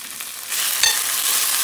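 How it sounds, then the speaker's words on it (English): Steak hits a hot wok and sizzles, the quiet hiss jumping to a loud, steady frying crackle with a brief clink of the utensil partway through, no voices heard. "Just fry your steak real quick in the wok"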